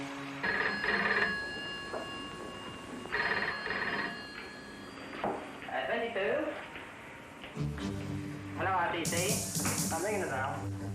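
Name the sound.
bell ringing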